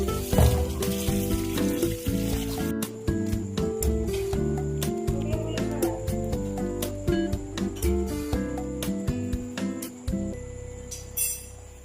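Chicken frying in a pan makes a steady crackling sizzle throughout, loud and close, with faint music running underneath.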